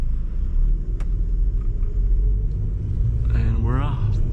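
A 2002 VW Passat wagon pulls away, heard from inside the cabin as a steady low engine and road rumble, with a brief voice rising near the end.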